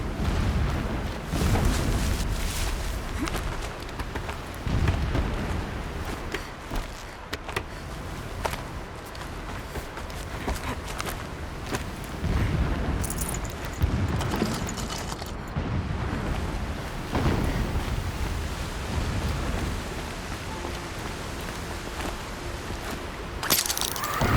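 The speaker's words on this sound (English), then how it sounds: "Explosions in the distance. Pay that no mind." Distant explosions rumble through a Horizon Zero Dawn game scene, a steady wash of low booms and crunching, churning noise with repeated heavier bursts, no talk over it.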